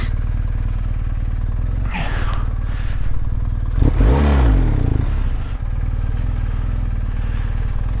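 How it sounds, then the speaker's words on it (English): A motorcycle rides off-road over wet leaves, its engine droning loud and close throughout, with a scraping, clattering surge midway as the bike slips and revs. "The bike just started slipping everywhere."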